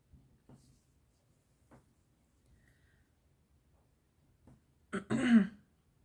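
A woman with a scratchy, irritated throat gives one short, close throat-clearing cough after several seconds of near silence broken only by faint small knocks and rustles.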